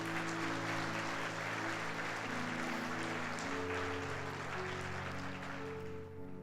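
Congregation applauding during a Sunday church service, a broad steady clapping wash running under sustained organ or keyboard chords, fairly faint and distant, easing slightly at the end.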